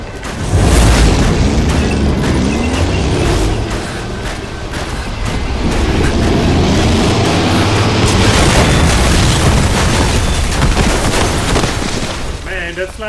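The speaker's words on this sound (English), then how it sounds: "That's like the fourth explosion that the snake endures in this little first chapter." A long, roaring explosion in the video game Metal Gear Solid 5 The Phantom Pain, a dense rumbling blast that holds loud and steady for over ten seconds before tapering at the end.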